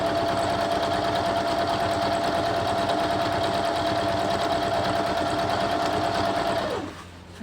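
A sewing machine runs steadily, stitching a quilt sashing strip in one continuous loud whir that stops abruptly near the end.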